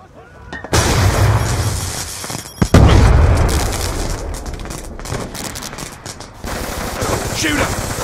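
Rapid automatic gunfire and heavy booms in Call of Duty: Black Ops 2 multiplayer, loud and sustained bursts with a big blast near the start, under some background talk.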